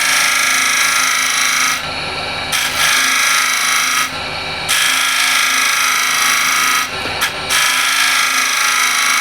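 A shear scraper tilted on its side scrapes a wood surface in long, loud, raspy strokes, close up, with a few brief pauses between passes.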